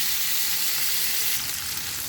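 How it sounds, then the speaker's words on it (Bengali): Rohu fish frying in mustard oil after being coated in turmeric and chili, giving a steady, close, continuous sizzle and crackle with no talk. "মাছ ভাজা হয়ে গেছে, হালকা ভেজে নিলাম"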